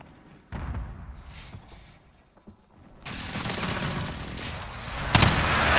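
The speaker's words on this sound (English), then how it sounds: "Allied precision airstrike incoming." Allied precision airstrike in Call of Duty: Modern Warfare 2019 multiplayer Headquarters on the M13 map, with scattered distant gunfire first, then a sustained barrage of explosions and heavy fire building to loud impacts.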